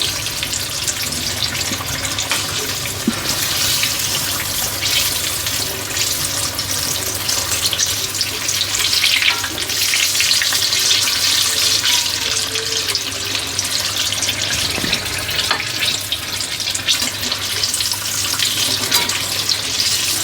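Green chillies in batter, masala mirchi bajji, deep-frying in hot oil make a dense, steady bubbling hiss that carries on unbroken for the whole stretch, with no talking.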